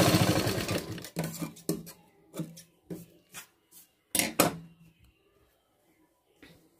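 A sewing machine stitches a double seam along the tucks of a lined blouse, starting in a dense whirring run and then breaking into short separate bursts of stitching with pauses between, close and fairly loud.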